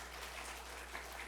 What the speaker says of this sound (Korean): 우리 하나님께 영광의 박수 올려드리시죠